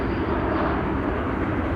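A KLM airliner landing at Amsterdam Schiphol Airport, a loud, steady jet engine roar that fills the clip continuously, with no talk.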